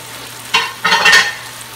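Chicken breasts fry in a pan, with two short bursts of close sizzling, one brief and one longer, over a quiet low hum.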